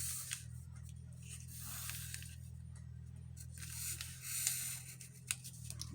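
Scissors snipping paper for a spring bird journal, faint, scattered cuts and rustles over a low, steady background hum.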